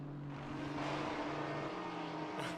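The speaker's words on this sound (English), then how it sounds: "Maserati sounds so good, blasting past the cameras" A Maserati GT4 race car in the Assetto Corsa Competizione racing game at Brands Hatch blasts past at close range, its engine a loud steady roar that shifts pitch near the end.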